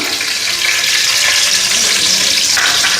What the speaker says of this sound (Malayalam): ഈ കാഷ്യൂ നട്ട്സ് ഒന്ന് ഗോൾഡൻ ബ്രൗൺ ആവുന്ന വരെ നമുക്കൊന്ന് വരട്ടിയെടുക്കാം.